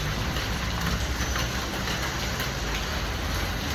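Steady rain falling at night in a Mumbai street, a dense continuous hiss with a low rumble of traffic or a train underneath, loud and unbroken with no talking.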